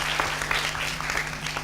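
An audience at a school event for MAN Insan Cendekia OKI applauds, a dense continuous wash of many hands clapping at steady loudness, with a low hum underneath and no talk over it.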